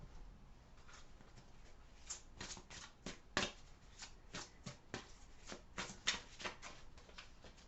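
Tarot cards are shuffled by hand in a quiet room, a series of soft riffling flutters and crisp card slaps repeating irregularly, close and fairly quiet, with no voice.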